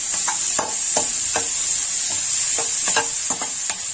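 Sliced mushrooms fry in a pan, a steady hiss of sizzling oil broken by repeated scraping and clinking taps as a spoon stirs them, close up and with no one talking.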